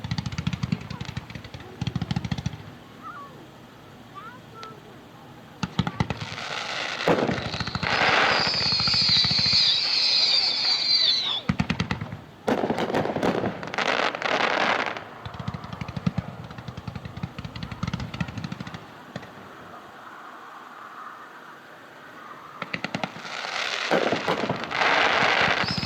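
Fireworks at a dealer demo show fire in loud crackling volleys with bursts of rapid popping and a glittering crackle, separated by short quieter gaps, heard from nearby and outdoors.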